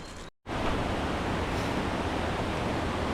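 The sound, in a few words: stream below the Brinta waterfall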